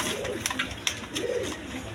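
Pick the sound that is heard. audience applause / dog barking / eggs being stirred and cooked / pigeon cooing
pigeon cooing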